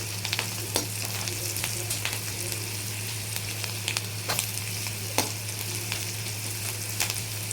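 Onion fries with turmeric in a pan, a steady close sizzle with small popping crackles and occasional scrapes of stirring, under a constant low hum.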